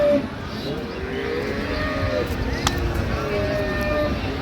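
Dairy cows and calves low repeatedly at the Ambari cattle market in Dinajpur, over a busy crowd murmur, with people talking nearby in the background.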